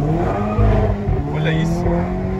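A Volkswagen Golf MK7 GTI stage 2 on air suspension accelerates hard, its engine note climbing with a brief tire chirp, heard from inside the car while people talk excitedly over it.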